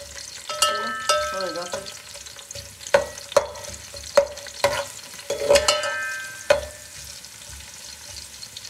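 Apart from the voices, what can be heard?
onions frying and being stirred in a pan for Kabuli pulao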